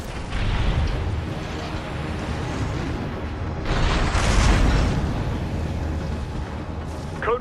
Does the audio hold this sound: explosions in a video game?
yes